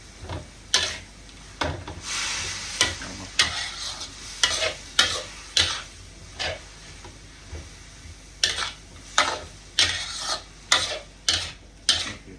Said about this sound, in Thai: เอามาผัดกับน้ำมันกระเทียม